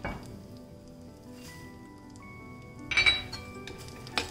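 Dates and dry fruits roast in a pan for a soft sizzle under faint, scattered clinks and rattles of pieces moving, with a brief louder clatter near the end.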